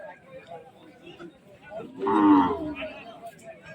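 A cow moos loudly once, mid-clip, over a low murmur of crowd chatter and animal noise at a large, crowded cattle market.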